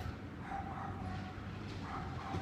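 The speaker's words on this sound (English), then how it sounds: "that lady's got a really annoying dog. Must it bark nonstop?" A dog barks and yips repeatedly in a faint, distant, continuous run of short calls under a low background murmur.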